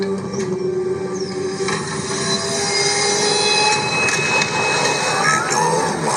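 A train runs along the rails with steady wheel rumble and high metallic wheel squeals, continuous and fairly loud with no talking.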